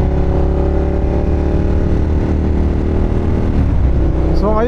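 A Ducati Monster 1200S motorcycle engine runs loud and close with a steady, throbbing idle, then revs briefly upward near the end.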